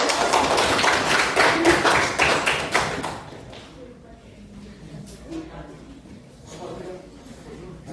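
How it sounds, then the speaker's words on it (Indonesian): Clapping from a classroom of junior high students applauding a presenting group, dense and loud for about three seconds before fading into quieter room noise and voices. "Kasih tepuk tangan untuk kelompok 1."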